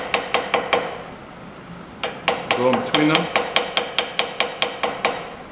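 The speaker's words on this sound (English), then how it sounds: "tap with the rivet hammer to widen and begin that hammerhead" Rivet hammer tapping a metal rivet in a metalsmithing class: a quick run of sharp, ringing metallic taps, a pause with a short spoken phrase, then another steady series of close, evenly spaced strikes.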